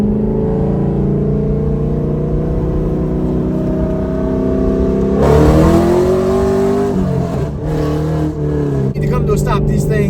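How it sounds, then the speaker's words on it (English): A 2015 Chevrolet Camaro Z/28 drives at a steady engine drone, then revs hard and climbs in pitch as it accelerates, loud from inside the cabin, settling and shifting down toward the end. "I'll be quiet for a second so you can kind of hear it."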